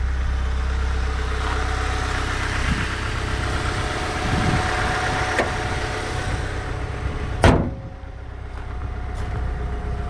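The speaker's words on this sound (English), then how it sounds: "there we have a 1000 RPM idle, and that's from a dead cold start" A car engine idles at about 1000 RPM after a dead cold start, running as a smooth, steady low hum. One short sharp knock or click sounds near the end.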